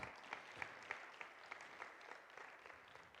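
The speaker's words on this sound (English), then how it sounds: "one more round of applause." Church audience applause at a missions program, a faint, steady ripple of many hands clapping with a few sharper claps, heard alone without talk.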